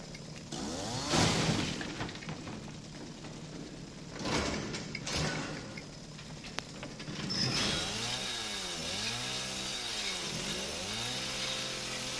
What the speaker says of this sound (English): Chainsaw it open.